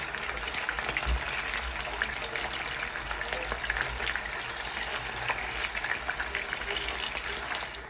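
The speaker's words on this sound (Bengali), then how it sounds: "কাবাব ভাজছি" Kebabs fry in a pan with a dense, steady crackling sizzle that holds at an even level from start to finish.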